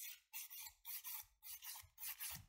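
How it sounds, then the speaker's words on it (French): Gel coating being filed off a fingernail with a nail file, five rhythmic rasping strokes close up, each a gritty scrape separated by short pauses, alone without speech. "vous limez vraiment plus doucement, car le but est vraiment de ne pas abîmer l'ongle"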